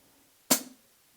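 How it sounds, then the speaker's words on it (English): One closed acoustic hi-hat hit for a bouncy beat, a single crisp, bright tick that decays quickly, isolated and moderately loud. "Closed acoustic hi-hats."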